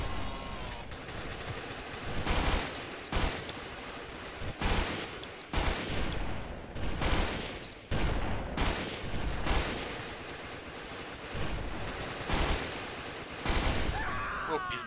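Naval video game combat near a moon island, with repeated loud bursts of gunfire and rapid volleys cracking out every second or so against a dense, noisy battle background.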